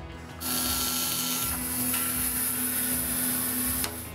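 A bandsaw cuts through a walnut log next to the fence, with a loud, steady motor whir and blade roar that starts abruptly, runs continuously for several seconds, then drops off near the end.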